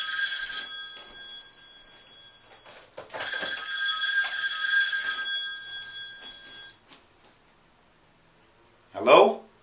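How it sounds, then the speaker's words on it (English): A video phone rings with repeated bright electronic bursts, two long ringing stretches separated by short gaps, loud and close, followed by a brief voice at the end. "Then I have my video phone ringing here."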